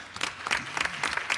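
Brief burst of audience applause at a talk on the Chicago music scene, scattered claps in a short uneven patter that fades quickly.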